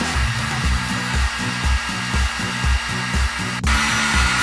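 A heat gun blows steadily while warming a Kydex holster formed around a KWA 1911 pistol: a close, loud, continuous airflow roar with a regular low throbbing pulse underneath and one brief sharp tick near the end.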